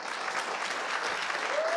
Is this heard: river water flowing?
no